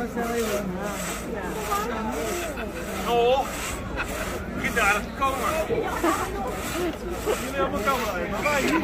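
Repeated rasping strokes of a hand saw cutting wood sound amid a lively crowd at an outdoor Victorian-era Christmas market festival, with people chattering and talking throughout.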